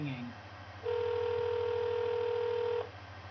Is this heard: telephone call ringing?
yes